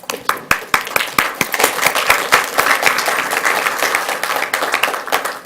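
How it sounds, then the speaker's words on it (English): A school board meeting audience applauds a State Board of Education member, with sharp individual claps at first building into steady, fairly loud clapping from a roomful of people. "Let's give her a round of applause."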